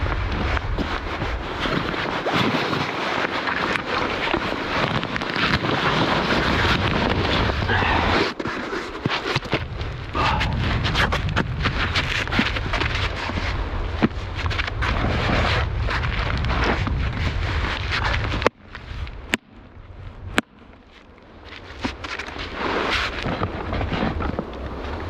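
Cold night wind blustering around a bivi camp on an ancient boulder, loud rumbling gusts buffeting the microphone, dropping away briefly near the end before surging back.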